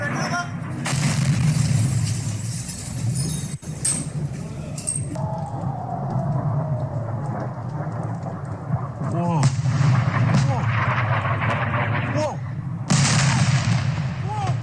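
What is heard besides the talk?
missiles striking and exploding, recorded in a played video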